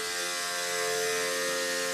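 A mini mister insecticide sprayer runs steadily, giving a continuous mechanical whir and buzz with strong tonal hum throughout, close and alone.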